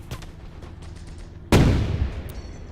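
A single heavy cannon blast from a Lee tank gun in the WWII strategy game Gates of Hell, sudden and loud after quieter distant battle noise, trailing off in a rumbling decay.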